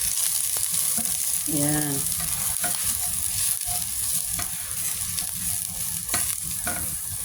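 Eggplant pan-fries in oil, giving a steady, loud hiss of frying with scraping and stirring knocks from a utensil against the pan. A voice speaks briefly partway through.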